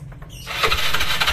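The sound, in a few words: scooter engine starting then dying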